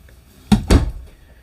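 Two quick wooden thunks close together as a silverware drawer in an RV kitchen slides shut, then quiet.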